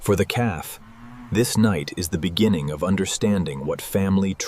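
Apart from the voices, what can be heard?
No distinct noise like a dog, phone or traffic.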